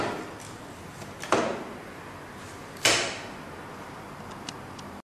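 A fingerprint access-control door lock releases and the door opens, giving two sharp mechanical clacks a second and a half apart, each followed by a short rattling decay, then a faint click near the end.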